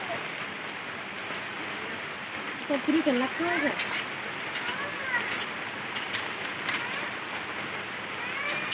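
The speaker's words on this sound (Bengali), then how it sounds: "আবার এখন বৃষ্টি নেমে গেছে অনেকটাই" Heavy rain falls steadily on surfaces, a dense constant patter, while a voice briefly breaks through in the middle and faint talk sits low under the downpour.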